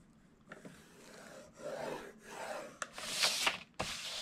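A sheet of letter paper being scored with a tool along a quarter-inch line, heard as a few short scraping and rubbing strokes up close, with light handling taps between them.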